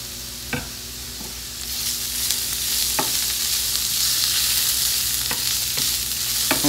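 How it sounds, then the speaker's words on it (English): Minced garlic sizzling in a hot pan: a bright, continuous hiss that swells after the first couple of seconds, broken by a few sharp clicks of a utensil stirring against the pan, with no talking. "So I'm gonna add in my minced garlic. We'll allow that to cook for a few seconds."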